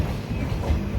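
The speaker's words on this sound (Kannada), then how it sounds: "ಗಾಡಿ ಇಲ್ಲಿಂದ ಹೊರಡ್ತಾ ಇದೆ" A passenger train from Shivamogga to Tumkur pulls out of a station with a steady close rumble and low rolling noise, no voices over it.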